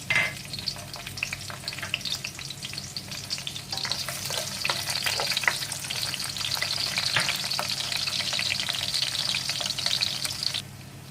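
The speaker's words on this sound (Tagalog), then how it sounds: "Una po, igigisa natin ang sibuyas." Onions sauté in a hot pan with a loud, close, continuous sizzle and crackle, stirred now and then, swelling a little midway before easing near the end.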